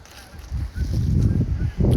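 Geese honk in open air, starting faint and building into a dense run of overlapping calls that carries on steadily with short dips between them.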